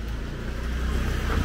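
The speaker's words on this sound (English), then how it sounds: "Cars behind me." Cars pass on a road in Amed, Bali, a close, loud steady rumble of traffic that swells slightly toward the end.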